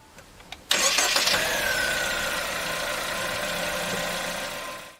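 A DFSK car with a 1.5 litre turbo DVVT engine cranks briefly and catches, then settles into a steady, smooth idle with a faint whine, heard close and alone.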